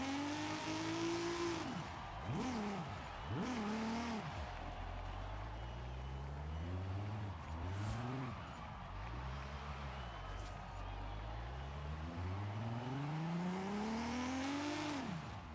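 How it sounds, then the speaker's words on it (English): Car engine in Forza Horizon 5 with an overly long first gear, bogging and stalling: low revs swell and sag repeatedly, lugging and dying off before climbing again, loud and continuous with no one speaking. "As you see, it's just stalling."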